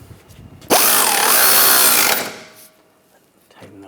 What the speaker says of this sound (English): now we're going to tighten this bolt down